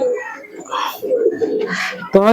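Pigeons from a flock of about forty coo softly in a loft, with a voice talking over the cooing through most of the short stretch.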